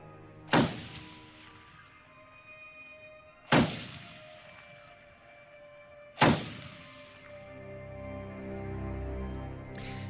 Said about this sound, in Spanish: Disparos en la noche.